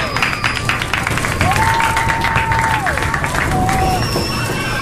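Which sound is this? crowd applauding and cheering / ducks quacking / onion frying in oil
crowd applauding and cheering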